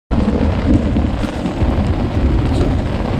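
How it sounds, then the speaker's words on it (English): Heavy rain pours down during a strong spring thunderstorm in the Boundary Waters wilderness, a loud, steady broadband roar with low rumbling thunder underneath, continuous and close throughout. "A lot of rain, lightning, thunder."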